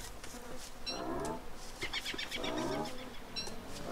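Swarm of killer bees in the video game Don't Starve Together, a buzzing that swells in bursts with a few high chirps over a quiet backdrop.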